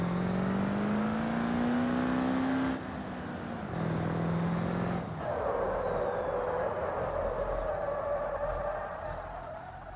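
A truck engine drones and shifts pitch as it accelerates and gears change, with a synthetic, game-like whine over a steady hum.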